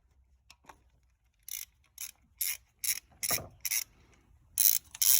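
A hand ratchet loosens a 10mm bolt on a Chevy Malibu engine. A few faint ticks come first, then about eight crisp, close ratcheting bursts in a steady rhythm with short pauses between strokes.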